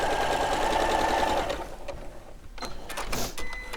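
A sewing machine stitches a quarter-inch seam on quilt fabric, whirring steadily and close for about a second and a half before stopping, followed by a few quieter clicks and handling sounds.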